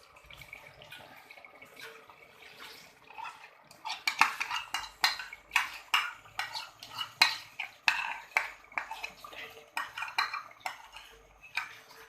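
Yogurt going into browning boneless chicken in a cooking pot, with a spoon scraping and clinking repeatedly against the metal in a steady, close rhythm, no talking.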